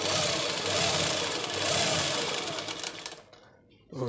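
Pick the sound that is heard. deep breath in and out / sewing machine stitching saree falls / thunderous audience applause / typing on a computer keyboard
sewing machine stitching saree falls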